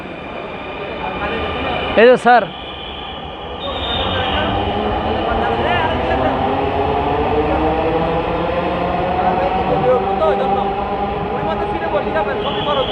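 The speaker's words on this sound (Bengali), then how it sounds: "এই মেট্রো রেল যাচ্ছে" A metro train arriving at a platform rumbles along with a rising electric motor whine; someone speaks briefly near the start over the steady roar.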